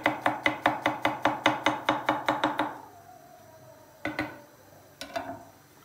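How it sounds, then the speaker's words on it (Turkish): Garlic is chopped with a knife on a board in a home kitchen, about a dozen quick, even, crisp strikes in a steady rhythm, then a pause and a few scattered taps, with no talk. "Şöyle bir sarımsak doğrayalım."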